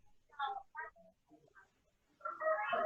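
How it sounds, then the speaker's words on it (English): A chicken clucks in short, scattered bursts, faint and somewhat distant, ending in a louder, drawn-out squawk. "I keep hearing a chicken."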